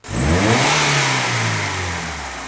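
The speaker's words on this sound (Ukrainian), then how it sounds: "Під капотом у нас знаходиться півтора літровий мотор від General Motors." A Daewoo Lanos with a 1.5-litre General Motors engine is revved once, close and loud, the note rising quickly and then easing down.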